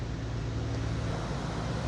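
An Infiniti G37 engine with newly installed resonated HFCs idles with a steady, low, rumbling drone, even and unbroken throughout.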